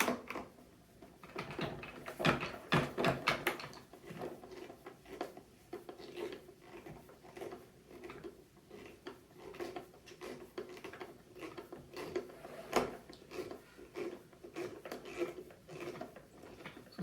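A screwdriver driving screws into a plastic Fisher-Price Learn With Puppy Walker toy during assembly, giving faint, close ratcheting clicks and creaks in uneven bursts throughout, with no talking.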